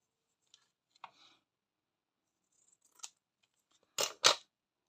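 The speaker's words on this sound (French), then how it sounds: "mes ciseaux compteurs, ils sont là" A few quiet snips and clicks of scissors, spaced out, then two sharper, louder cuts close together near the end.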